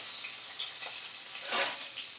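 Oil sizzles and crackles steadily as parshe fish fry, with a brief louder burst of spattering near the end.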